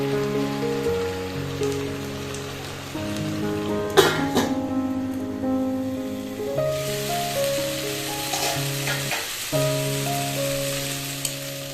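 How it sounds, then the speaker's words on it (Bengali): Vegetables with turmeric frying lightly in a pan, a steady crackling sizzle with a few sharp clatters of stirring, heard close alongside a sustained musical tone bed throughout. "এভাবে নেড়ে চেড়ে হালকা ভেজে নেব সবজিগুলোকে"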